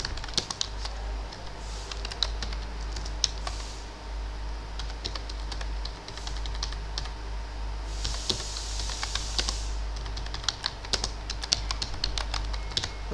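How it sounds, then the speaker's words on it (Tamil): Rapid, uneven keystrokes on a computer keyboard while entering text in Photoshop's text tool. The clicks come in bursts with brief pauses, sounding close and fairly crisp over a steady low electrical hum, with no talking. "வேணால் டைப் பண்ணுறேன்னு வச்சுங்களேன்."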